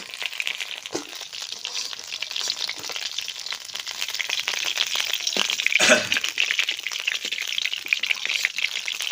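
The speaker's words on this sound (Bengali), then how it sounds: "মাছটা ভাজা হয়ে গেছে, আমি এখন তুলে নেব মাছ।" Snakehead fish pieces fry in hot oil for a Bengali aam shol dish, a continuous close crackling sizzle with a sharper spatter burst midway and no talking.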